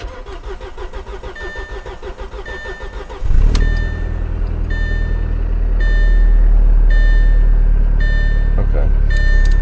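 A 2008 Audi A4 with the 2.0T FSI engine, after camshaft replacement with a failed high-pressure fuel pump, cranks with repetitive starter beats and then fires up into a steady, loud idle, with a chime repeating over the running engine.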